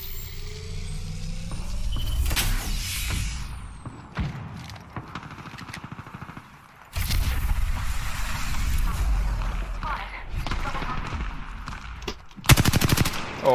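Shootout in a video game, with heavy machine-gun fire and gunshots rattling in long loud stretches, then a sharp, intense burst near the end, over rumbling background noise.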